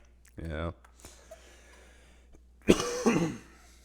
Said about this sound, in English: Again, excuse the cough.